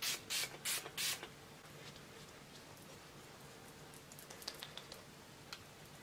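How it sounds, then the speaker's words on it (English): Four quick hissing sprays from a toner spray bottle's fine mister in close succession, followed by quieter background noise with a few faint clicks. "The mister on this bottle is phenomenal as well, like such a fine, beautiful mist."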